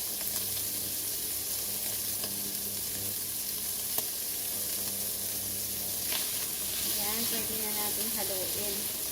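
Shrimp frying in a pan for fried rice with egg, left unstirred: a continuous, even sizzle and hiss throughout, with a few faint clicks and light background sounds near the end.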